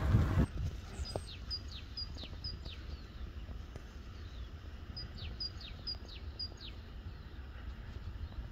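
Birds chirping outdoors in the countryside on a sunny, cool morning among wildlife, short high calls repeating in small clusters, moderately distant over a low rumbling background.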